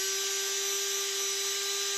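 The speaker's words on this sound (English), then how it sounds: "I'm just going to take a wire brush on a drill," A wire brush spun by a drill cleans out the metal bushing bore for a Subaru Justy poly engine mount, giving a steady, close, high whirring whine that holds unbroken throughout without any talking.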